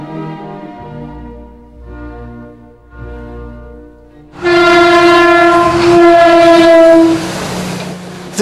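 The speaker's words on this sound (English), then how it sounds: "Once every few hours, the commuter train rolls into the station." A commuter train rolls into a small-town station, its rumble building before a loud, sustained horn blast sounds close by for several seconds and then gives way to the rolling train.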